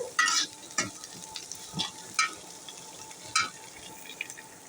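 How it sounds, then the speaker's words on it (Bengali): Onions frying in a pan for a greens stir-fry, with a quiet sizzle under intermittent loud stirring scrapes and clatters, roughly four or five sharp strokes spread across the moment. "পেঁয়াজটা ভালো করে ভেজে নেব"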